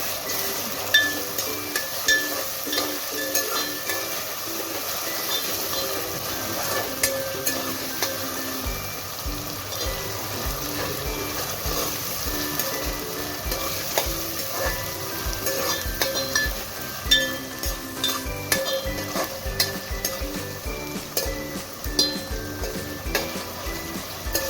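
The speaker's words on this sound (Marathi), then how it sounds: "2 चमचे आलं लसूण पेस्ट आहे। ती छान आपल्याला तेलावर परतून घ्यायची आहे।" Two spoons of ginger garlic paste frying in oil for gavti chicken curry, a steady close sizzle with frequent spoon scrapes and clinks against the pan throughout, no voices.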